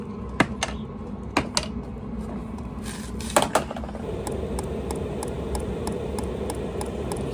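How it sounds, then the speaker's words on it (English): A HCALORY Toolbox 2 diesel heater's fuel pump clicks sharply and evenly about once per second over a steady whirring blower hum that builds slightly in pitch. "You can hear the fuel pump clicking."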